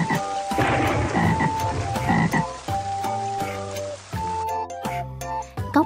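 Toads croaking in a loud chorus of repeated calls, layered over a children's rhyme sung with backing music.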